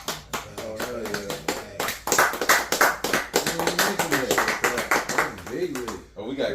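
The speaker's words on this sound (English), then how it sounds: "Oh, we got claps now." Rapid bursts of clap-machine sound effects patter through a podcast studio, sharp and close, mixed in with lively overlapping talk and laughter.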